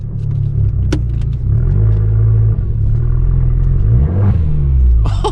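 A Fiat 595 Abarth's engine and exhaust rumble loudly from inside the car while driving, a deep steady drone that rises and falls with throttle, with a light rattle from the cabin.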